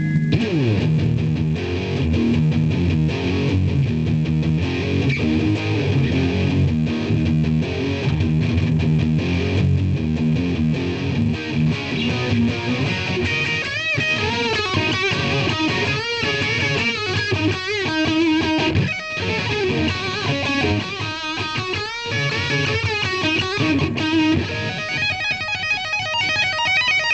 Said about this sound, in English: here's the bridge humbucker, full distortion and boost on.